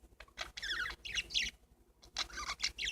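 Pet parakeets chirp and twitter up close in quick bursts of bright tweets separated by short pauses, with a faint scratchy patter underneath.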